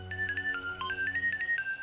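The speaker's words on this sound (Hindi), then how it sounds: "लो ट्रैवल एजेंट का ही फोन है।" Phone ringtone announcing an incoming call from a travel agent in a sitcom scene, a bright repeating electronic melody of short beeping tones playing alone, close and moderately loud.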